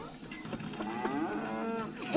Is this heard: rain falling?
no